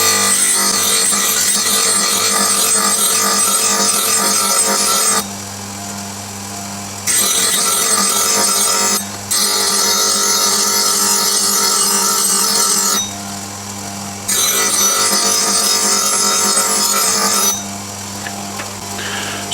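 Grinding the bevel of a skew chisel on a powered grinder, loud and harsh, in several long passes broken by short quieter gaps where the tool is lifted while the motor hum carries on underneath.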